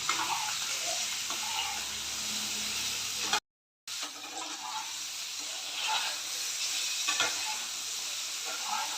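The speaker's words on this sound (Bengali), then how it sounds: "এখন তেল দিয়ে এটিকে ভেজে নেব।" Frying in oil in a pan while cooking khichuri: an even, hissing sizzle runs close and steady, broken by one brief silent gap before resuming with soft stirring scrapes.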